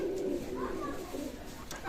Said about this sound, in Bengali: সেখানে একজোড়া কামাগার কবুতর আছে